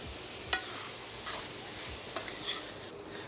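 Cheese sizzles and fries in a pan for a cheesesteak sandwich, a close steady crackle broken by a few scrapes and clinks of a utensil stirring.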